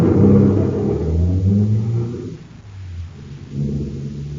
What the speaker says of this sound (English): Start the car, Blake.